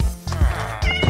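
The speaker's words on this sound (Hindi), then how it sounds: "नहीं यार, अभी बिल्ली भी है।" A cat meows in the video game Minecraft, a short close and loud meow standing alone.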